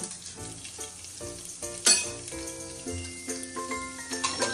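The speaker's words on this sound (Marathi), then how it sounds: "आपण हे वाटण टाकून घेऊया त्याच्यामध्ये" Ground masala paste goes into cooked mutton for a spicy rassa, setting off a bright, crackling sizzle that swells sharply at the drop and then stays busy with stirring.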